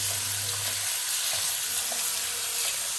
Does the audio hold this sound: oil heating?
yes